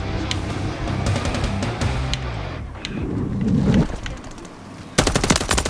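Rapid automatic gunfire from a Fortnite or Call of Duty match, loud bursts of repeated shots with a dense volley near the end, mixed with in-game rumble and no talk.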